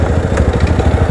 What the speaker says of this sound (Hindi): पहले अपना स्कूटर जो है यहाँ पर पार्क कर देते हैं।